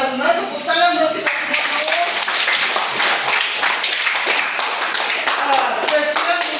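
A classroom group clapping together, a busy run of hand claps near and loud, with voices audible over the start and scattered through it.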